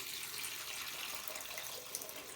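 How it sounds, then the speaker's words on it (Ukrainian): Warm water pours steadily into glass jars of cucumbers in a pot, in a continuous splashing stream, close by, with no one speaking. "і наливаємо теплу воду"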